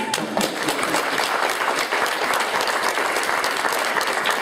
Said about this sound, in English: How about a round of applause for Kim Roth?